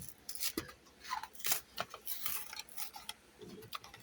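A Disney Cars diecast toy package being opened up close: quiet crinkling, tearing and plastic rustling in irregular bursts, with no voices.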